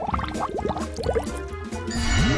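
An object is dropped into hot water, giving soft wet slurps, drips and bubbling squishes in uneven bursts, ending in a rising gurgle of filling liquid.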